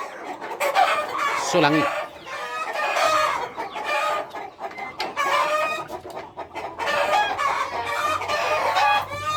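Free-range village chickens on a farm in Sentul cluck constantly while roosters crow several times nearby, and people talk over the flock.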